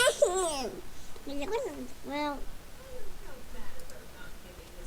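A toddler babbles nearby in a room, a few short rising and falling vocal bursts and syllables with quiet gaps between them over faint background noise.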